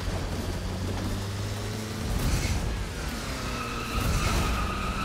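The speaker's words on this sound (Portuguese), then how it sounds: "Que drift lindo!" A car drifting in Roblox Driving Simulator, its engine droning steadily under a continuous tire skid that rises and falls in waves as the car slides through the turn, with no voices.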